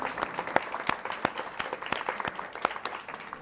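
Audience applause after an interview before readers, a dense patter of many hands with some sharper individual claps standing out, moderately distant and fairly soft, continuous through the stretch.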